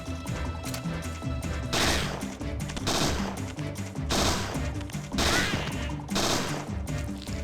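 Gunshots in the video game Parasite Eve II, several loud bursts of firing that come and go every second or so over continuous game music and ambience.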